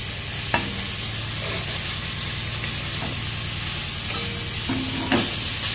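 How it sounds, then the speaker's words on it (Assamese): Chopped tomatoes hit hot oil with fish frying in a kadai, giving a steady close sizzle and hiss with scraping stirs and a few sharp clinks, no talking. "এতিয়া আমি ইয়াত দিম কাটি থোৱা বিলাহীখিনি, ইয়াতে দি দিম।"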